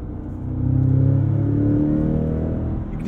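Cadillac CT5-V Blackwing accelerating hard under full throttle through a no-lift shift, a loud, close engine roar with rising harmonics that steps down briefly at the gear change and keeps pulling.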